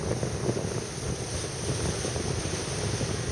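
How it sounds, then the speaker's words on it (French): Strong wind buffets the microphone in a steady roar, mixed with the wash and rumble of ocean swell at the Te Aito 2011 race, continuous and loud throughout. "Le vent super fort, les éléments sont déchaînés, la houle est là, le vent."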